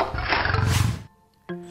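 A tiger in an animated animal story gives one loud, full roar lasting about a second, followed by a brief silence and a short tonal sound.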